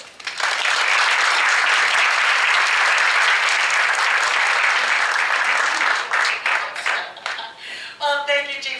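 Audience applause welcoming speaker Tina Tchen at a talk on women in politics and policy, dense sustained clapping for about seven seconds that thins into scattered claps as it fades.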